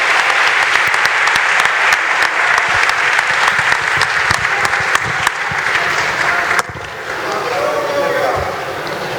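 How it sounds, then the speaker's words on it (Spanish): A large crowd in Mexico City gives strong applause to see off the head of government, loud, dense clapping for several seconds that cuts off sharply into quieter room sound with voices. "Bueno, pues despedimos con un fuerte aplauso a la jefa de gobierno"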